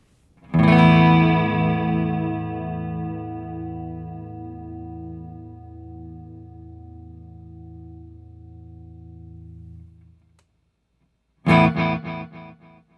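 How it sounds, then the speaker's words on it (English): An electric guitar chord rings out with a shimmering, wobbling 50-millisecond digital delay, pitch dipping as the whammy bar is pushed down, then cuts to silence before a brief second strum. "a delay of about 50 milliseconds with me pushing the whammy bar down"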